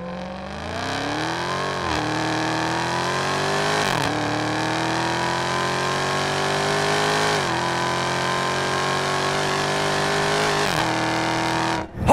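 A 2021 Dodge Charger SRT Hellcat Redeye Widebody with a 6.2-liter supercharged V8 accelerates hard, its loud, close engine note climbing through several gear shifts without a break.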